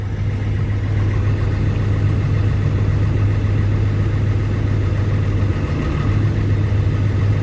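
A tractor engine idles steadily with its PTO engaged on a snowy farm, a deep constant drone with a strong low hum. It stays loud and even throughout, with no talk.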